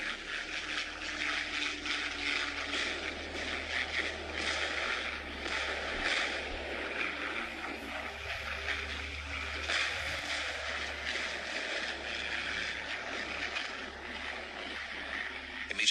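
Heavy World War II bombers and fighter bombers, hundreds strong over Cassino, drone steadily as a dense, continuous engine roar that holds evenly throughout without pause.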